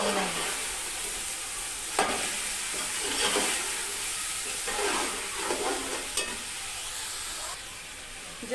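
Spices fry and get stirred in a pot for chicken palau, producing a steady hiss and sizzle punctuated by a few sharp scraping knocks of the spoon, close and moderate in level, without speech.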